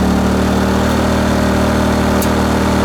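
A GTM R2000IS 2.0 kW inverter generator runs close up with a loud, steady engine drone and hum that holds constant throughout, with no talking.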